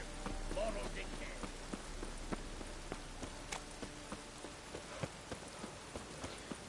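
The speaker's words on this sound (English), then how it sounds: "And it's raining again." Rain patters steadily on surfaces in the video game The Witcher 3: Wild Hunt, a soft, quiet shower with scattered sharper drips and faint rhythmic hoof-like knocks.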